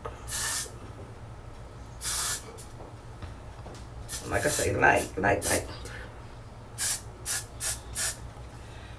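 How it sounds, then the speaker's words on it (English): Several short, sharp bursts of hair spray hiss, some in quick succession, close by, with a person talking in between. "we're gonna go in with some of this Got To Be Glue Blasting Free Spray"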